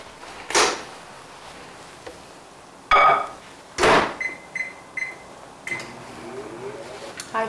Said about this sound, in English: What I usually do is to put this in a microwave.